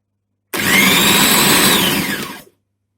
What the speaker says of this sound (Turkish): Biberlerimizi temizleyip iyice yıkayıp iyice suyunu süzdürdükten sonra arkadaşlar robotta çekelim.